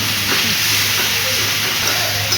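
Vegetables cooking in a pan for a matar paneer dinner: a steady, close, even hiss of sizzling that runs unbroken through the whole stretch, with faint background hum.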